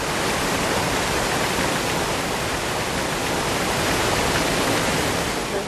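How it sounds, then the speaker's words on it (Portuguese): A powerful waterfall in the Atlantic forest of Serra da Bocaina roars as a dense, unbroken wash of falling water, loud and constant throughout with no voices. "os calmos rios se transformam em quedas poderosas."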